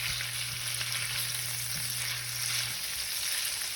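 Sausage and onions frying together in a Dutch oven give a steady, close sizzle with a constant bright crackle, alongside a low hum that fades partway through; no one speaks.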